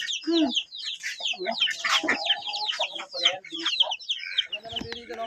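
Chickens clucking close by, busy overlapping calls and squawks in quick, uneven bursts throughout.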